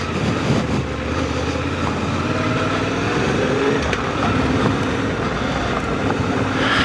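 A Suzuki V-Strom 800DE motorcycle rides off-road, its engine droning steadily under heavy wind roar and rumble from a close, onboard position, with a brief rise in pitch midway.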